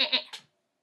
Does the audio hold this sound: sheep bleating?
yes